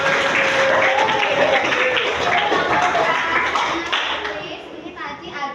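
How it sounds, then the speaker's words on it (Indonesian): A class of schoolchildren claps their hands together in a lively burst that gradually thins out, with children's voices mixed in. "Coba kasih tepuk tangan dulu."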